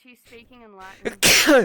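One person sneezes sharply and close up, a sudden loud burst that ends the clip, just after another person finishes talking.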